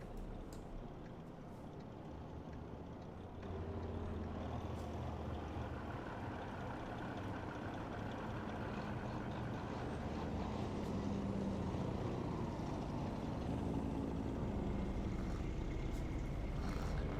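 Trucks pass in a trucking simulator game, a broad rumbling engine and road drone that swells and stays loud and continuous, with no voices.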